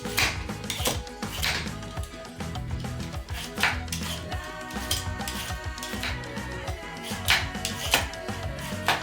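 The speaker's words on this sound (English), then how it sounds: "I'm going to start out by peeling the cassava." Cassava being peeled with a knife in a kitchen, heard as a continuous busy run of scraping, clicks and clatter close by, with a faint tonal background and no voices.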